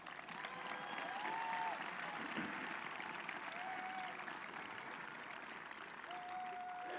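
A graduation audience at Northern Highlands applauds the graduates' parents in a large, sustained wash of clapping from a big crowd, heard at some distance, with a few faint whistles.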